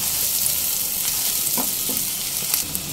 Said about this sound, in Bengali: কাঁচা লঙ্কা কুচি দেওয়ার পর আরও 30 থেকে 40 সেকেন্ড নেড়ে চেড়ে ভেজে নিয়েছি